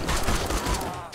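Rapid burst of gunfire in the 7 Days to Die survival game during a PVP match, a loud, dense volley of shots over about a second, closely spaced with no pauses.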